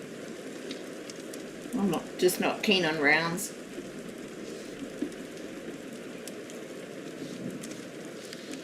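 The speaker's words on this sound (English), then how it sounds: "I just put one on with rain sounds and crackling fireplace" Steady soft hiss of recorded rain with faint crackling from a fireplace runs throughout, low and continuous beneath a voice that talks briefly in the middle.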